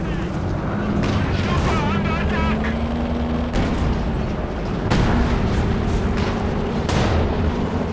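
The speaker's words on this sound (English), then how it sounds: "Gonna get some extra shots off for the 6-pounder." A 6-pounder anti-tank gun fires in Company of Heroes 2, sharp booming shots cutting through continuous battle noise and game sounds, with a commentator talking over it.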